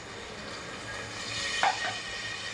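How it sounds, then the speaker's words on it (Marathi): Pomfret pieces fry Malvani style with curry leaves and ginger-garlic paste, a soft, continuous sizzling hiss that swells slightly toward the end, with a brief metallic clink. "हे फ्राय होत आहे"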